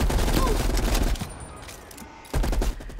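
Automatic gunfire in Call of Duty Black Ops Cold War, loud rapid bursts up close, a short lull, then another burst, with a voice talking over the shooting.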